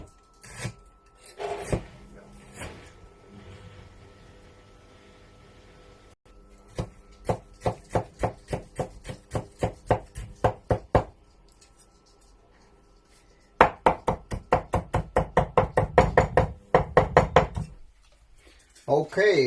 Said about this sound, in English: now I'm going to chop some gingers